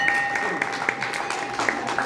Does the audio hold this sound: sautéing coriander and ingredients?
no